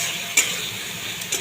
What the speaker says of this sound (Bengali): এটা এবার একটু মশলাটা ভেজে নেব